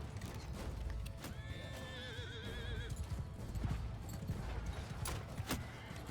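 A horse in the video game Bannerlord gives a clear whinny, with clip-clopping hooves and scattered battle clatter around it, set at a moderate distance in a busy game mix.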